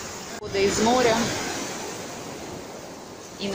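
Sea waves washing onto the shore at Golden Sands, Bulgaria, a steady broad wash of surf with some wind on the microphone, and brief faint voices near the start.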